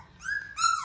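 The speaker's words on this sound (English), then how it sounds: "So we're getting some growls and things out of them now" Labrador puppies about eighteen days old make two short, high whiny growl-like vocalizations in quick succession, faint and close, with no talking.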